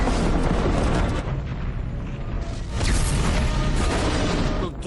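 Falling space-station pods explode in a film scene from The 100, with loud booming blasts and a rumbling roar that rise, dip briefly and swell again before cutting off.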